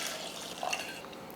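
Water poured into a pot holding dal, tomatoes, garlic cloves, small onions and turmeric, a soft trickling splash that bubbles briefly midway, faint and close with no talking.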